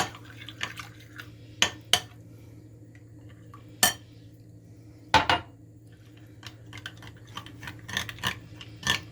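A spoon stirs strained yogurt with a little water in a bowl for a dill dip sauce, producing scattered sharp clinks and soft scraping taps, irregularly spaced over a low constant hum.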